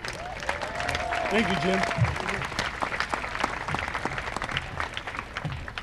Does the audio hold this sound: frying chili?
no